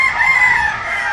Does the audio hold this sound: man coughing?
no